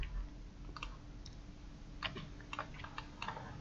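Light, quiet taps on a computer keyboard as text is typed, a few scattered keystrokes then a brief cluster of clicks over a faint background hum.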